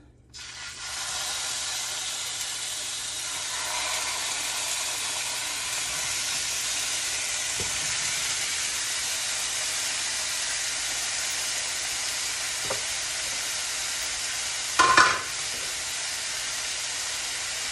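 Beef browns in a hot pan for Filipino-style beef nilaga, giving a steady, loud sizzling hiss that runs unbroken, with a few brief clinks and scrapes near the end.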